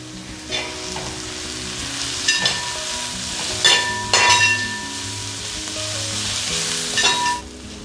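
Onion, ginger, garlic and green chilli sautéing for a beef curry, a steady close sizzle with a few clattering stirs and scrapes of the spoon in the pan, with quiet background music and no talking.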